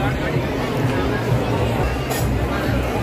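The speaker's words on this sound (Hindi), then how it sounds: "यहाँ पे भाई बहुत भीड़ है यहाँ पे" Dense crowd hubbub fills a busy shopping mall during the Christmas season, a steady wash of overlapping voices and chatter at constant loudness with no single voice standing out.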